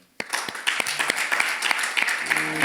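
An audience claps after a talk on the economic case for LGBT equality, a dense burst of many hands that starts sharply and keeps going at steady loudness to the end.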